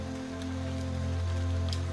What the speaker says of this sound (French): Tu restes là, à marcher dans cette pluie tranquille